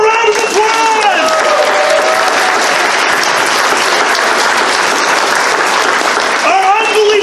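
A large crowd at a furry convention panel claps loudly and continuously for about seven seconds, with a voice calling out over the applause at the start and again near the end.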